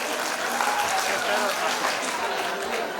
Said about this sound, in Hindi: एक बार जोरदार तालियां वैशाली रायकवार मैम के लिए।